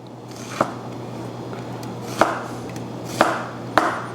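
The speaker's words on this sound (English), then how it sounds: "I'm going to take an onion, cut it down." A knife chops an onion on a cutting board at a market cooking stand, four sharp, separate thunks spaced unevenly over a steady low background hum.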